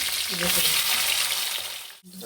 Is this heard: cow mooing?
no